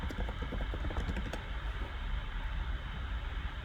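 Fast key taps on a computer keyboard as a search is typed, a busy run of light clicks close by over a steady low hum, with no talking.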